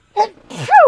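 A short sneeze bursts out, followed by a brief voiced sound rising and falling in pitch, close and fairly loud.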